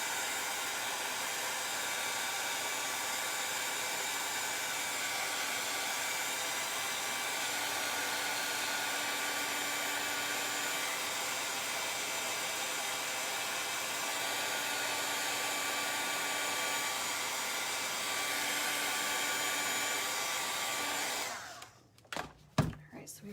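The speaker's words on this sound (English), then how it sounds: "Throw the dryer on it" A handheld hair dryer blows steadily and loudly on fresh stencil paint on a Christmas sign, a constant rushing whir that runs unbroken until it cuts off near the end, followed by a few handling knocks.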